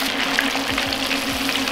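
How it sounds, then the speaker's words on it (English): A constant crackling hiss of chicken frying in a deep fryer, steady and close, with a low hum underneath. "Can you hear that sizzling sound?"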